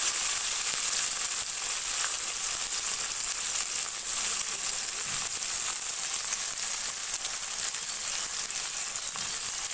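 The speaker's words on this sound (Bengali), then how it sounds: "পেঁয়াজগুলোকে দিয়ে দেবো কড়াইতে।" Onions fry in a kadai for chicken biryani, producing a loud, dense, continuous sizzle that stays even throughout, with no voices.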